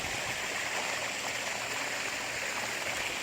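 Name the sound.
water recirculating and flowing through a saltwater pond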